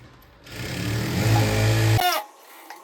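A sewing machine stitches lining onto a baby frock in one steady motorized run of about a second and a half, fairly close, then stops abruptly with a small mechanical clunk.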